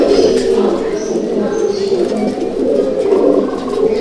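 Close, continuous throaty cooing from a male Malbai/Panjabi pigeon in a loft, a rolling murmur that swells and dips, with faint higher chirps from other birds and some voices in the background.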